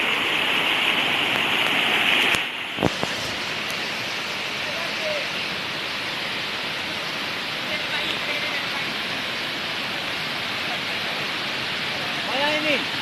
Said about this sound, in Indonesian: Air terjun 7 Bidadari.